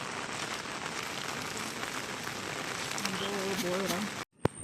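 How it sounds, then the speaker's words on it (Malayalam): Continuous hiss of heavy rain pattering on surfaces during a fishing trip, with faint speech-like tones near the end and a brief thump after a short gap. "നല്ല മഴ വരുന്നുണ്ട്"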